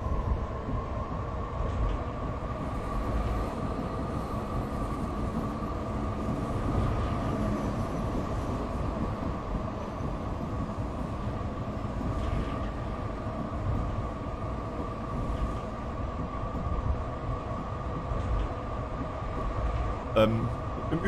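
A Frankfurt U-Bahn subway train on the U5 line to Ginnheim runs in Train Simulator Classic, a steady low rumble with a sustained motor hum and rail noise throughout, with someone talking over it.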